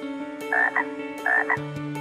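Frogs croaking in an animated series in quick paired bursts, repeated twice, close and clear over a background of steady low tones.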